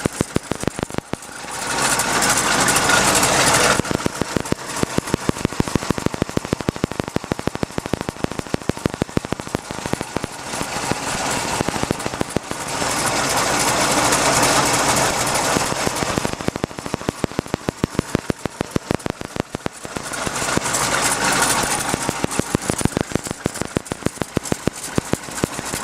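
A 1948 Willys Jeep CJ2A with its flathead engine runs steadily and close by, giving a continuous loud mechanical drone with rapid firing pulses that swell and ease in a few waves across the stretch.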